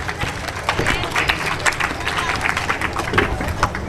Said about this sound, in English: Do loud clap for Muhammad Taqi Zama.